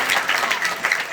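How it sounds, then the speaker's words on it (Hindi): Children clap together in a school hall at Lal Bahadur Inter College in Lalganj, Azamgarh, a brief burst of dense, bright applause at close range. "बच्चे ताली बजाइए।"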